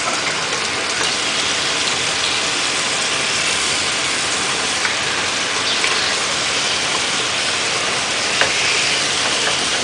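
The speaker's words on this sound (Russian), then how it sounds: "ставим вторую сковородку и забрасываем сразу мясо" Continuous dense sizzle of meat frying in a hot pan, close and steady, with a faint mechanical hum underneath and no talking.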